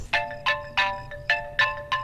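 A phone rings in a repeating electronic ringtone, six evenly spaced bright chirping bursts about a third of a second apart, close and clear with no voices over it.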